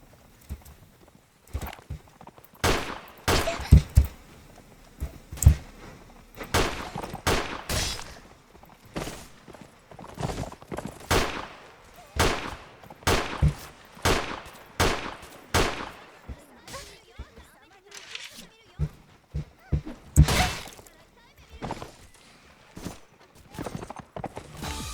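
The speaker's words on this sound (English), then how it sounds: "It's just a bunch of charging cavalry, so my army should be able to handle this kind of thing." Cavalry charging across a war video game battlefield, with a steady clatter of galloping hooves mixed with sharp bursts of gunfire, loud and close, running continuously throughout.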